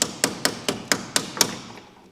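Someone taps on the body of a WW2 jeep to test whether it is genuine: seven sharp, evenly spaced knocks, each ringing briefly before fading, close and fairly loud.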